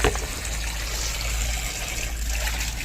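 Sorghum and wheat grains being washed together in water, a close steady wet swishing and trickling with light splashes throughout.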